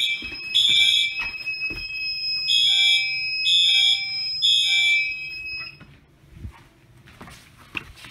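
Fire alarm system test with a Fireman 24 detector: a loud, shrill electronic alarm sounds in repeated high pulses for about five seconds, then cuts out, leaving quiet room noise and a few clicks.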